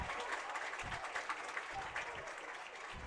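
A baseball crowd at a high school state tournament game claps steadily in a spread of mixed applause, moderately loud, with scattered talk underneath.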